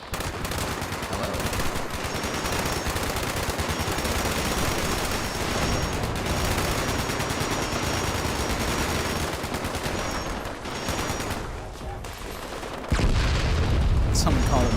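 Orbital strike blasts hit during a Fallout 76 battle: dense, continuous rumbling explosions and gunfire fill the scene, easing briefly before a heavy boom lands near the end.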